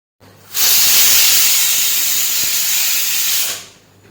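A pressure cooker whistle releasing steam, one loud close hissing blast lasting about three seconds that starts abruptly and fades out, heard alone.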